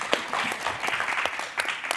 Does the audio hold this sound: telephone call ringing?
no